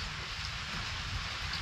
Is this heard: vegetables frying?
no